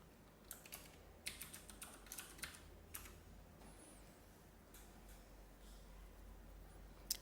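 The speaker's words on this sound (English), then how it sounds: "I type in my password." Someone types a password on a computer keyboard, a quick run of soft, close keystrokes that tapers off into quiet room hiss, with a single sharp click at the end.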